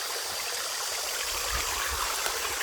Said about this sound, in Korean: 이 계곡물이 흐르고 있습니다.